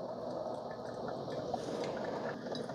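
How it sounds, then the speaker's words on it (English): A Braun KF5650 Pure Flavor 14-cup drip coffee maker brews on a regular cycle, giving a quiet, steady trickling and gurgling hiss of hot water that runs on without pause and has no voices over it. "on a regular brew and it's kind of brewing for a little bit"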